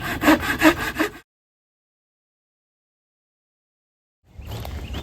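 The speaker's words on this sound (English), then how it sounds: "I'm gonna cut the rest of this up for fuel wood" A hand saw cuts tulip poplar wood into fuel wood with a few quick, rasping back-and-forth strokes. A long silent gap follows, and then the sawing starts again, close up.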